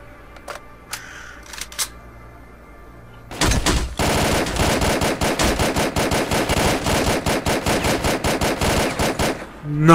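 Rapid automatic gunfire from a weapon in the video game STALKER Clear Sky, starting after a few faint clicks and running as one loud, continuous burst of closely spaced shots for several seconds.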